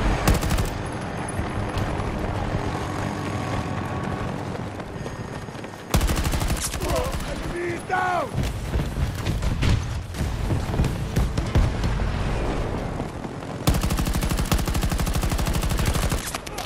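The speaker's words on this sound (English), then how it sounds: "Didn't even notice I was getting shot from behind." Battlefield 2042 gameplay packs dense, loud video game gunfire, with rapid machine-gun bursts and fusillades across the whole stretch, occasional booms and thuds, and a brief whistling effect partway through.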